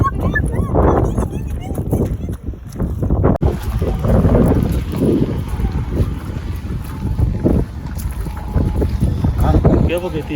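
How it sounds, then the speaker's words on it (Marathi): Strong gusty wind roars and buffets the microphone throughout at Amboli, with people talking underneath. "वारा सुटला ना"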